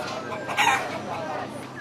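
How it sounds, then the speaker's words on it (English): Live chicken at a Hong Kong market, a short nearby cluck rising above a busy, noisy background hum. "I'm not scared of no little live chicken"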